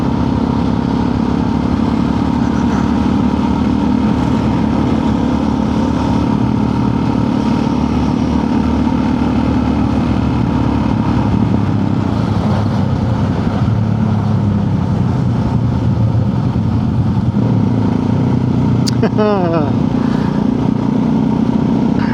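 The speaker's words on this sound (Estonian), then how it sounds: "Tsiklimees tegi õppesõitu" A motorcycle ridden by a learner rider, heard as a loud, steady engine drone with road rumble throughout, plus a brief high chirp near the end.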